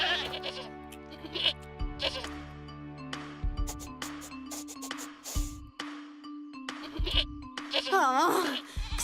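Cartoon goats bleat in a series of short, wavering cries over a bright musical score, with some speech nearby.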